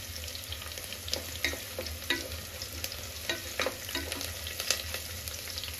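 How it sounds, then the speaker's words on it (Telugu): Cashews and chopped tomato fry in a pan, a constant close sizzle broken by scraping stirs and soft spoon clinks, with no talk. "జీడిపప్పు కొంచెం ఫ్రై అయిన తర్వాత మనం టమాటో వేసుకుందాం."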